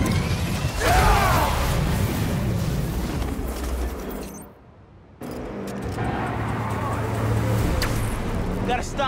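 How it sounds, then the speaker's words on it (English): Criminals' trucks driving in the Marvel's Spider-Man video game, a loud mechanical engine rumble and road noise that drops out briefly midway before resuming, with voices talking over it. "Gotta stop those trucks."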